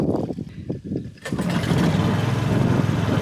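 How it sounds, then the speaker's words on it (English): A tour boat's engine cranks with uneven chugs for about a second, then catches and settles into a steady, loud rumbling idle close by. "Engine start up and we're away."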